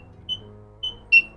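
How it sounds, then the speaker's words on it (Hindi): Buzzer on the circuit board of an Orient BLDC remote-control ceiling fan gives three short, sharp electronic beeps at uneven intervals over a quiet background, the last one loudest. "तो फ्रेंड्स ये देख पा रहे हैं इसके बीप की साउंड आ रही है बजर से।"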